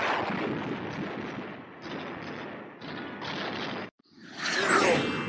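Rocket launch effect from a 1930s Buck Rogers film serial, shown to a theater audience: a loud, continuous rushing roar with thumping bursts, broken by a brief silence before a swelling whoosh.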